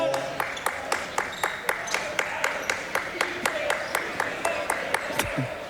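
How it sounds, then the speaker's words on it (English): A basketball crowd at a men's college game between Heidelberg and Ohio Northern claps in a steady, even rhythm of sharp beats, about three per second, over a murmuring arena, with faint voices in the background. "I was just listening to the rhythmic clapping."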